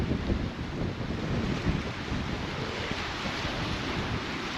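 Steady gusting wind buffets the microphone on an open seashore while fishing on the Cardiff foreshore, a continuous broadband roar with surf-like rumble throughout and no voices.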